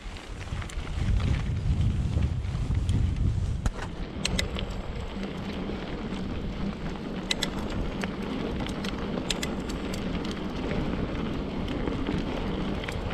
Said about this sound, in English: it's quite windy as well, easterly wind